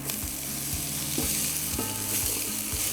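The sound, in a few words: diced yellow onion sizzling in oil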